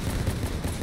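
Cyclone weapon firing in the vehicle combat video game Crossout, a dense rapid run of booming shots with heavy low rumble, loud and continuous, no speech.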